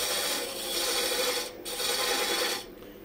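A woodturning tool scrapes and peels a spinning cherry spindle on a lathe. The rough, continuous rasp runs close and steady with two brief dips, and no voices are heard.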